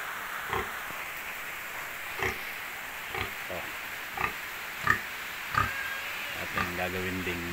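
Pigs on a farm during a typhoon grunt in short repeated oinks spaced about a second apart, moderately near, over a steady hiss of heavy rain, while someone speaks in the background.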